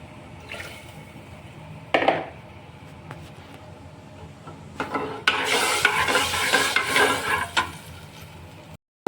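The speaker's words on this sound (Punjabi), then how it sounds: "ਆ ਦੇਖੋ ਹੁਣ ਦਾਲ ਪਾ ਦਿੰਨੇ" Mung and masoor lentils tipped into a hot tadka and stirred, a sharp sizzle rising around two seconds then swelling into a loud, sustained crackling fry with spoon scraping, close by and with no talk.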